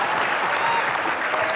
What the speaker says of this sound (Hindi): बंदे की ईमानदारी के लिए तालियां बनती हैं।